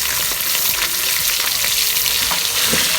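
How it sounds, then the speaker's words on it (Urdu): Minced meat frying with garlic and ginger in a hot pan, a steady dense sizzle with faint scraping stirs, loud and close, no talking. "ان تمام چیزوں کو اکٹھا ہم فرائی کریں گے"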